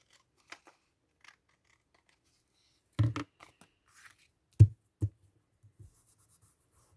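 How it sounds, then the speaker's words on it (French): Scissors snipping off overhanging paper at the edges of a collage page: a few sharp, crisp cuts around the middle, separated by quiet pauses and faint paper handling, close and small in a hushed room. "je vais couper ce qui déborde"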